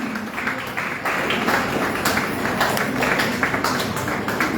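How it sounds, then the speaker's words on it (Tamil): An audience claps for students at a ceremony, a steady, dense applause that continues evenly throughout. "நீங்கள் கரகோஷம் விட்டால் உற்சாகம் இருக்கும்."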